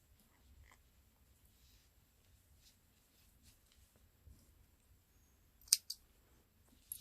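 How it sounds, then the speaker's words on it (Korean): Scissors snip through knitting yarn near the end, one or two sharp, close cuts after a stretch of quiet handling noise and soft breathing. "이 실도 마찬가지로 끝났으니까 또 잘라 줄 거예요"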